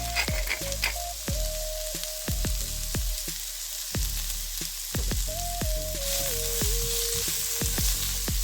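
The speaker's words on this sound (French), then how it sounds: "on va vraiment les laisser cuire pour vraiment que ça nous fasse une tombée d'oignon et une tombée de poivron" Onions and peppers frying in a pan with salt and pepper, a steady close sizzle broken by sharp repeated knocks of a utensil stirring against the pan, with no voices.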